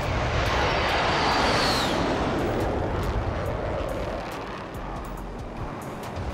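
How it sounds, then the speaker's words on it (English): Loud, dense roar of aircraft and gunfire in Warzone, steady rumbling noise with sharp bursts throughout, fading slightly toward the end; no speech. "Can take the heli over there."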